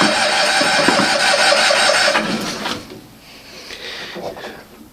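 A Cushman engine cranked on the key with the choke on and the fuel off, turning over loudly and steadily for about two seconds without catching, then falling away to quieter mechanical noise.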